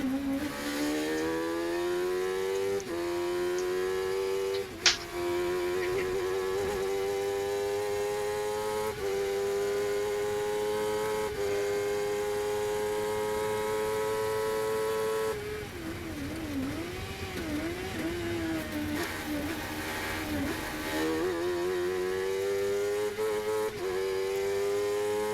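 A 750MC Sports 1000 race car engine at Croft during a race, screaming at high revs with steady climbing pitch, brief gear-change dips and a sharp click, loud and close throughout with no talk.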